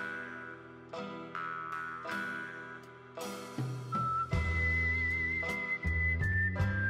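Warbling whistle in the game Final Fantasy 6 Pixel Remaster, a wavering high tone carried over a rhythmic musical backing of plucked notes and low bass, steady and fairly loud with no voices.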